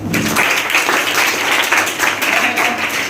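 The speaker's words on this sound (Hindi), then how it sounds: "पारसी समुदाय, तालियां बजा दीजिए।" A crowd at a quiz competition claps loudly and continuously, a close, busy patter of many hands that holds steady for a few seconds.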